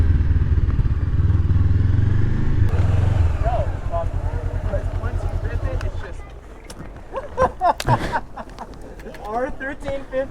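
A Honda CB500F motorcycle ridden off-road gives a steady, loud engine drone that thins out halfway through into scattered clatter and rustling, with a voice talking over it.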